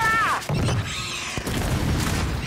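Gears 5 frag grenade going off, a loud booming burst that rolls into sustained crackling combat noise, close and heavy after a short character shout at the start.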